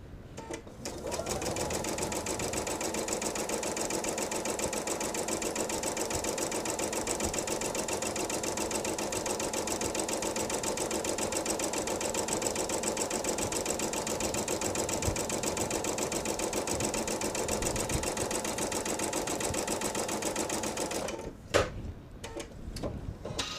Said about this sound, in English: And now we want to make sure everything is straight as we're sewing.